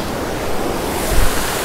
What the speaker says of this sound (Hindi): यहाँ पर पानी बहते हुए कहाँ जा रहा है